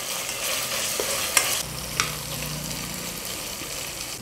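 Onions and ginger garlic paste fry in a pan with a constant crackling sizzle, punctuated by a couple of sharp clinks and scrapes of stirring against the metal.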